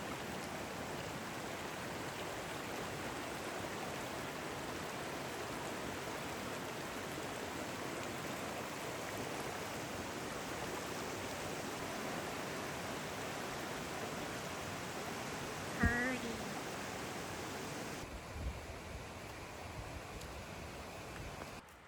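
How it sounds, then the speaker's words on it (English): A creek beside a wilderness hiking trail in the Snowbird area rushes and gurgles steadily, close and continuous, with a brief knock near the end. "Check out this creek, you guys."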